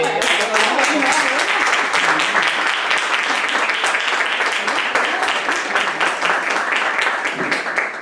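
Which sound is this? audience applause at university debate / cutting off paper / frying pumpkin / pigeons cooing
audience applause at university debate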